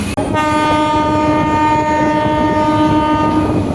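A train rumbles loudly along the tracks near Bagnan station while its horn blares in one long, sustained tone, close by, with rain falling.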